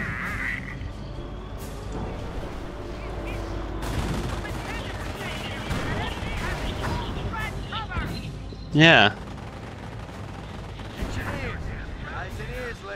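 Mortar bombardment in the World War II strategy game Company of Heroes: repeated thumps and gunfire rattle under game chatter and commentary, with one sharp loud blast near the end.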